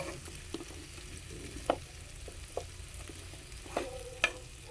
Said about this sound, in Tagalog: dahil naprito na natin siya ng bahagya